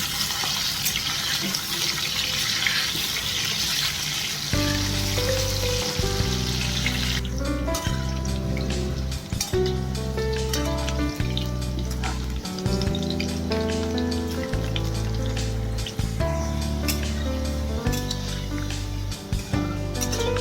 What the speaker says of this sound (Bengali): তো আলুটা আমি কড়ার তেলের মধ্যে ছেড়ে দিলাম। আর এখন আমি খুন্তি দিয়ে আলুটা ভাজতে থাকবো।